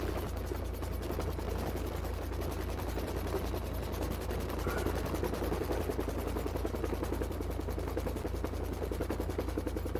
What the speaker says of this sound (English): the sounds from the rotor that you're hearing are it chopping through the air because it's a big freaking rotor